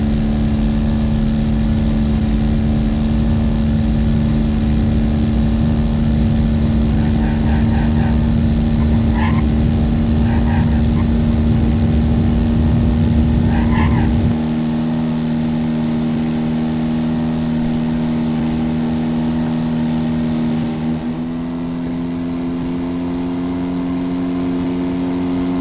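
A propeller airplane in X-Plane 10 drones loudly with a steady engine hum that shifts partway through as it passes, plus brief faint tonal chirps, for about 25 seconds.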